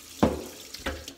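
Water from a kitchen tap in a home kitchen, heard as two short splashing gushes against a soft running hiss, fairly close and with no talking.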